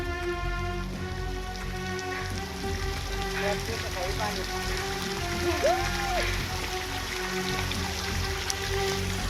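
Water falling from above onto a rocky fort trail splashes steadily, a dense continuous pattering like heavy rain, close and fairly loud throughout, with occasional faint background sounds.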